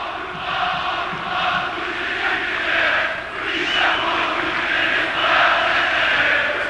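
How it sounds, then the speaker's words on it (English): A large football stadium crowd at a 1998 World Cup qualifier between Turkey and the Netherlands roars and chants steadily, swelling in waves, with the noise sounding broad and somewhat distant. "Crowd in great voice."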